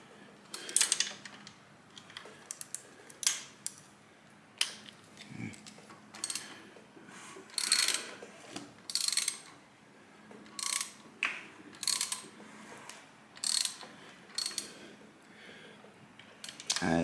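Repeated ratchet-wrench clicking on the bolts of a 1978 Kawasaki KZ1000 Z1R motorcycle, heard in short close bursts of rapid clicks separated by pauses, with no talking.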